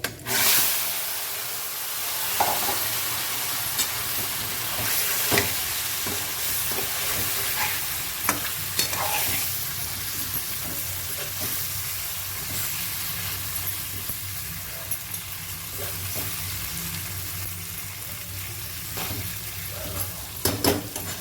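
Tempering crackles and sizzles in a generous pool of hot oil in a home kitchen, a steady close hiss broken by scattered taps and stirring scrapes of a utensil.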